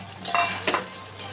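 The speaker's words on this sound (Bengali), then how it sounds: "এবার আমি ভেজে রাখা পনিরগুলো দিয়ে দেব।" Fried paneer cubes go into a pan of sizzling spice paste, giving a couple of brief scraping stirs and soft sizzles over a low steady background hum, with no talking.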